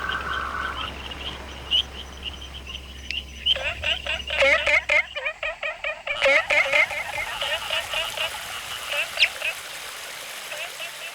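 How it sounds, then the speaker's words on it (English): Frogs croaking on a damp forest floor beside a stream at night after rainfall in Neidong National Forest, Taiwan: a run of quick, rhythmic, undulating calls rises over steady stream hiss, fairly close, then fades back to running water. "you can hear their undulating croaks"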